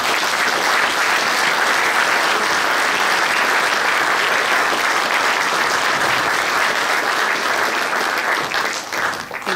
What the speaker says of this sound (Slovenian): pa vas prosim samo še en zaglasen aplavz.